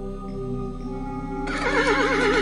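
A horse's loud, wavering neigh bursts in midway and rises over a steady musical drone, accompanying a Hindi fairy tale in which a prince rides toward a palace.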